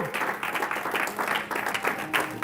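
Church congregation applauding for Jesus, a dense, steady patter of many hands filling the room, with a voice faintly audible beneath the clapping.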